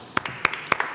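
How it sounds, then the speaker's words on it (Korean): A small audience claps at a group's year-end awards show, a brief burst of a few sharp, separate claps in just under a second. "박수!"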